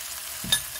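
Seafood drops into a hot oiled pan of carrot, onion and mushroom for Hong Kong crispy noodles, giving one brief sizzling burst with a clatter over a quiet frying hiss.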